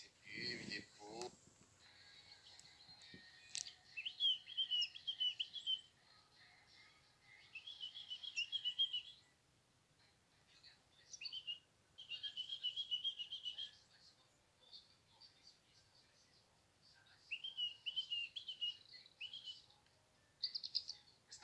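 A rescued baby bird gives repeated thin, high chirping trills in short bursts separated by pauses, close and fairly faint, with a brief bit of handling noise at the start.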